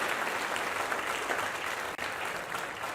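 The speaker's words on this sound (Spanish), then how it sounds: "Denle ese aplauso al Señor" A church congregation claps in a dense, steady burst of applause that stays loud and even for the whole stretch, with no voices standing out.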